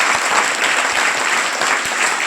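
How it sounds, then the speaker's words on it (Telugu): A crowd at a high school Independence Day event claps steadily, a dense loud applause sustained throughout. "Give claps."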